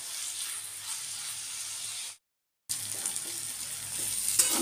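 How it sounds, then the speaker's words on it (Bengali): Bottle gourd peel with salt and turmeric frying in a pan gives a faint, hissing sizzle that drops out briefly to silence midway, then returns with light stirring. "এটাকে ভালো করে আমি ফ্রাই করে নেব"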